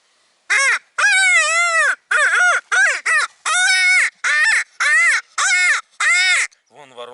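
A hand-held duck call blown to imitate a crow gives about ten loud, close, nasal caws in a quick, uneven series, each harsh call clearly separated by short pauses.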